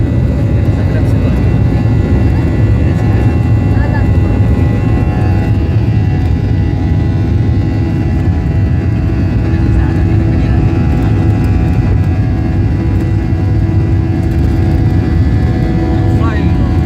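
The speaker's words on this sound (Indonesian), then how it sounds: "Take off, flying." A passenger airplane takes off from runway 31 at Sultan Thaha Airport, heard from inside the cabin as a loud, constant, deep engine roar that fills the whole stretch, with people talking faintly beneath it.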